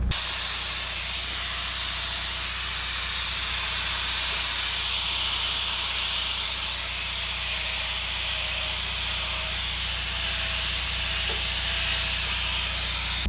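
Steady, harsh hissing grind of a flat wire wheel scouring rust off an old backhoe, continuous and loud for the whole stretch with no pauses.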